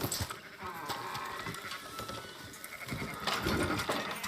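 Sheep bleating in Red Dead Redemption 2, several wavering bleats from a small flock close by over a low ambient background, with no talking.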